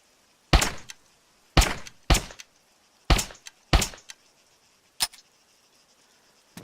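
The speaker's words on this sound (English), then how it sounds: "Gotta love the weapon jams." Gunfire and weapon jamming in ArmA 3: six sharp, loud shots spaced irregularly about a second apart, with the last one shorter and thinner, and quiet gaps between them.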